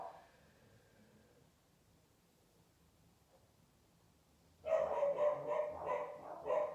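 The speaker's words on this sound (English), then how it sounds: "Please excuse my dogs." Several dogs bark loudly and repeatedly in the last two seconds, an abrupt burst after a quiet stretch of room noise.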